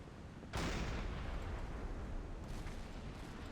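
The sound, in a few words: deck gun shots at a burning ship in the video game Silent Hunter 5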